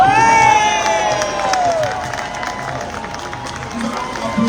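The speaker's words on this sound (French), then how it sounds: "Avec Daido Bimbe que je demande d'applaudir très fort" A Paris rally crowd cheers and applauds, with a loud whistle and shouts at the start, then steady clapping and crowd noise.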